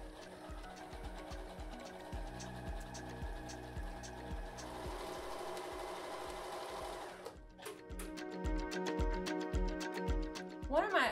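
A Horizon Memory Craft 9480QC sewing machine stitching, a rapid, even mechanical thumping that shifts in pitch and speed partway through, close and clear with no talk over it.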